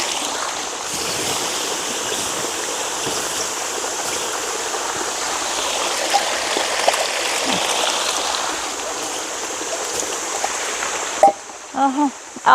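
Water being poured out in a loud, continuous rushing stream that runs close for about eleven seconds, then cuts off, leaving a few short, sharp sounds.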